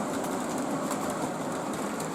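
An O gauge model train, a single locomotive, runs along the track with a steady broadband rumble and faint clicking, continuous and close, with no voices.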